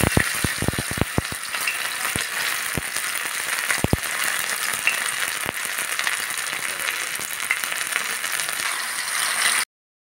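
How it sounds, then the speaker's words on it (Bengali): Fritters (bora) of rice flour batter with salt and turmeric fry in hot oil in a wok, giving a steady close hiss and crackle, with a few sharp clicks near the start and no talk. "এবার চলো এটা কড়াইয়ে এটা বড়াটা ভেজে নিই।"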